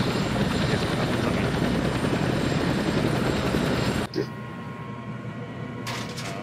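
An ARMA 3 helicopter's loud, steady rotor and turbine roar cuts off sharply, leaving a quieter low whine as it spools down, with a clunk soon after.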